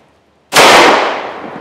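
A single sharp, loud 10mm pistol shot firing a 200 grain hard cast lead round, an abrupt blast after brief quiet, followed by a long decaying outdoor tail.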